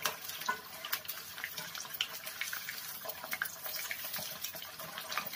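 Chicken 65 fries in hot oil over a medium flame, giving a steady, close sizzle and crackle. The bright, hissing pops carry on without a break.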